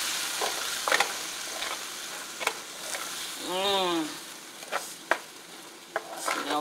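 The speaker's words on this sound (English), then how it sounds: "And then I'm going to use a little bit of red wine just to glaze my pot." Red wine poured into a hot pot of pork chops to deglaze it, giving a loud sizzling hiss with a brief wavering pour sound, plus scattered metallic scrapes and taps of stirring, no speech.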